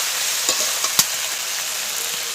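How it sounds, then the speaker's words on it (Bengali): Mixed vegetables and pre-fried bitter gourd stir-fried with spices for Bengali sukto, a loud steady sizzle with a few sharp spatula clacks, one louder knock near the middle, no voices. "এবার কিন্তু ভালো করে কিন্তু সবজিটাকে পুরো মশলার সাথে কিন্তু কষিয়ে নেব"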